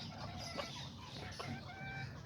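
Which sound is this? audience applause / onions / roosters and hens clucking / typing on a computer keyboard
roosters and hens clucking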